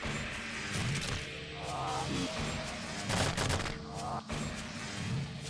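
Enemy gunfire in the video game Shadow Man Remastered, rapid bursts of shots and impacts crackling loudly and close, several volleys within a few seconds amid game ambience.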